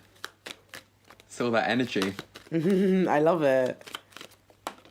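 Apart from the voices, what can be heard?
shuffling playing cards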